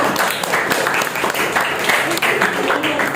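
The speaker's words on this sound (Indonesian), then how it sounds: "beri aplaus dulu untuk kelompok 5" A classroom of students applauds group 5, steady close clapping filling the whole stretch with a few voices mixed in.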